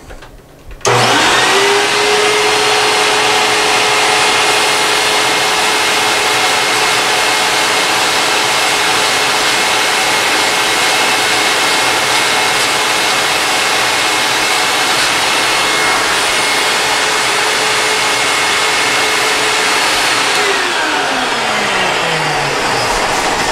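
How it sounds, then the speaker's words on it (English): A vacuum runs loud and steady close by, sucking up spackle dust during sanding after removing a towel ring, starting abruptly and holding a constant roar with a shifting tone near the end. "we are gonna have a vacuum underneath us here to actually suck up any of the dust that comes off"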